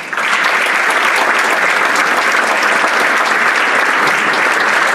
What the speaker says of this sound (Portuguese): Um fortíssimo aplauso.